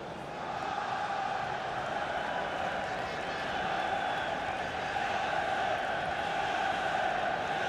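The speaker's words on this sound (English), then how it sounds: "The crowd certainly thinks so. Just listen to that noise." Steady roar of a stadium crowd in the FIFA 23 football game on PC, a dense sustained wash of voices that swells slightly toward the end, with no clear clapping bursts.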